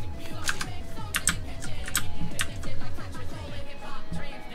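Typing on a computer keyboard sits close to the microphone during a PlayerUnknown's Battlegrounds livestream, giving a steady run of crisp, fairly loud key clicks with quick irregular rhythm and no talking.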